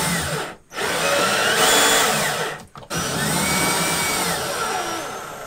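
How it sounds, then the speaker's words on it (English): A power drill bores a new hole in the back of an RV freezer, a loud close whirring burst that cuts out twice briefly and then resumes with its pitch shifting under load. "drill a new hole in the back of the freezer to line it up with the new cooling unit"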